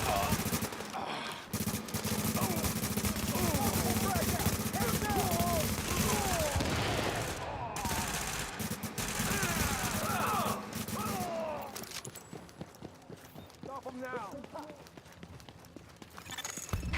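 Gunfire and shotgun blasts in a firefight from The Division video game, with rapid bursts and sharp reports over a dense, loud mix that thins out toward the end, with voices partly audible underneath.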